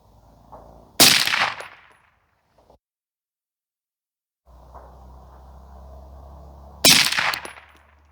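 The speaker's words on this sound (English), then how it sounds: "we are going to be shooting at the leftmost small dot." Rifle shots fired at a small target dot on a range while sighting in, two sharp loud cracks about six seconds apart, close up, with quiet handling and breathing between them.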